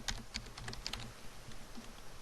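Someone types an email address on a computer keyboard, a quick, close run of light key clicks in an irregular patter for a couple of seconds, with no talking over it.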